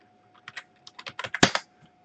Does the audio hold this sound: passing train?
no